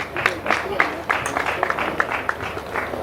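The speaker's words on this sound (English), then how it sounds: "Please a round of applause for him." Applause from a ceremony audience at an investiture event, scattered individual claps over a room murmur, moderately loud and uneven, with voices mixed in.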